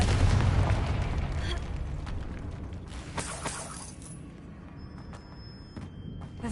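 A blasting spell in Hogwarts Legacy detonates with a loud booming explosion at the start, followed by crackling bursts and a fading rumble that trails off to near quiet.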